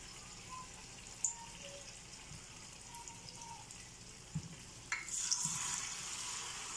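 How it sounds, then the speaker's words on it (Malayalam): Batter-dipped banana slices fry in a pan of hot oil, a faint steady sizzle with light clinks and a sharper burst of bubbling toward the end, no voices. "ഇങ്ങനെ നമുക്ക് നമ്മളുടെ മുഴുവൻ പഴങ്ങളും ഇട്ട് നമുക്ക് ബാറ്ററിൽ മുക്കി വറുത്തെടുക്കാം"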